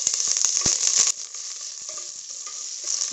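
Small onions sizzling and frying in a pan with mustard seeds over a medium flame, a loud steady hiss with sharp stirring scrapes early on, then a quieter continuous sizzle.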